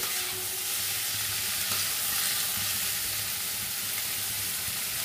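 Raw jackfruit pieces frying in oil for a rich Bengali curry, a dense, steady sizzle that stays close and loud throughout with no gaps.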